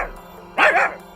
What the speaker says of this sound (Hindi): अरे ये कुत्ता कहाँ से आ गया?